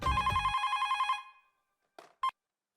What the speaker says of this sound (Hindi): अब मैं भी सारिस मामा का फोन लगाता हूँ.